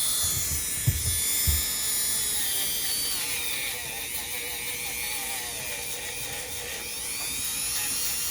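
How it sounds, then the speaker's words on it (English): A grinder sands hard, thick skin on a foot with a steady, high-pitched whirring drone that runs continuously, close and fairly quiet, with a few low bumps early on. "Why don't you bust out the grinder, right? I did today."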